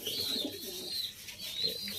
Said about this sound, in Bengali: এই রেসার কবুতর লালন পালন করে আছি